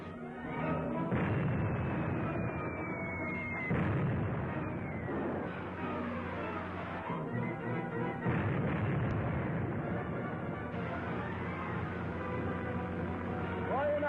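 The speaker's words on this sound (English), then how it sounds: "That's a 3-inch shell they're firing at us." Film sound effect of 3-inch artillery shells being fired, a series of heavy booming blasts with rumbling decay and falling whistles, several loud explosions spread across the clip with voices in between.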